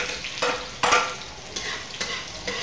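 Onion and garlic sizzle in hot oil for chicken adobo while being stirred, a soft, steady frying hiss broken by several sharp scraping strokes of a utensil against the pan.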